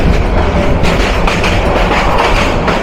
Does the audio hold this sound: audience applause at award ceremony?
no